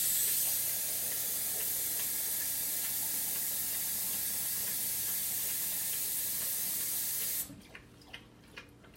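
Water pours steadily into an Instant Pot while making lentil chili, a loud continuous rushing hiss that cuts off abruptly near the end, followed by a few light taps in quiet.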